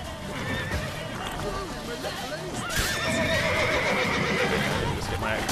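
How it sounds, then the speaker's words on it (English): A panicked horse from the video game The Witcher 3 whinnies and neighs loudly, with hoof clip-clops mixed into dense in-game combat noise and a voice talking over it. "The horse is panicking in the background as well."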